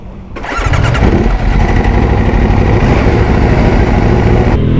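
Motorcycles firing up, including an Aprilia RS 457, an Aprilia RSV4 and a Yamaha R3, with a sharp start catching into a loud, steady, close engine idle that rumbles on without pause.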